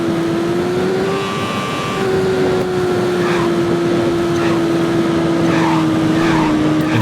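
A car engine roars during a highway race in the Midnight Club II video game, a sustained loud drone that shifts pitch slightly with gear changes, and faint whooshes pass by in the background.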